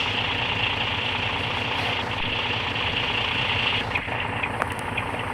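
Steady idling drone of a bus engine in Bus Simulator Indonesia, a continuous low rumble with a constant high-mid hum, unbroken and fairly loud for the full stretch, with a slight shift near the end.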